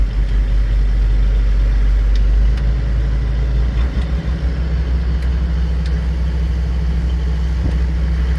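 Tractor engine running steadily near a combine harvester under repair during a rye harvest, a loud, close, continuous low rumble with a deep idle throb and no talk.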